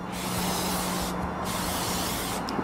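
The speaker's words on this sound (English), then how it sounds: "go ahead and do your test sprays on the box" A can of Plasti Dip rubber coating sprays test passes onto a cardboard box, a loud continuous hiss broken by two brief pauses between bursts.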